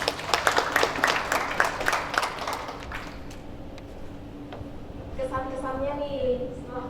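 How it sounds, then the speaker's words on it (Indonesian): Audience applause for a testimonial speaker at a training session, a burst of clapping in the first three seconds that thins out and fades, followed by quieter room sound with a voice speaking. "Beri aplaus dong."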